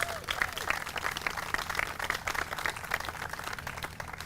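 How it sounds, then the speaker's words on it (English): A press conference audience in St. Pete, Florida claps steadily through the moment, a dense patter of many hands at moderate distance with no talk over it. "Somebody can clap for that."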